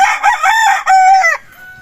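A broodcock rooster crows loudly and close by, one full cock-a-doodle-doo call with a rising, stuttering middle and a trailing end, heard alone.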